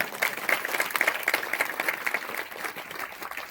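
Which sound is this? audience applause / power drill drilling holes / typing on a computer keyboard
audience applause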